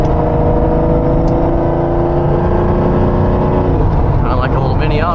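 A Lamborghini Diablo engine drones loud and steady from inside the car while driving on an open road, with a constant low rumble and a slight rise in revs near the end.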